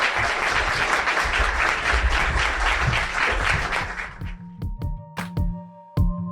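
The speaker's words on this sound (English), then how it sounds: "can everyone give a big round of applause to Cathie and Rod in the Bitcoin Comics" A live audience claps loudly and densely for several seconds, the applause thinning into scattered individual claps before fading near the end.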